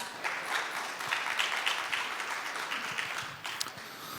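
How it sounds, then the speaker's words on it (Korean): A conference audience at an AI industry event claps to welcome a speaker, dense steady applause at moderate loudness that fades slightly toward the end. "여러분 박수로 환영해 주시기 바랍니다"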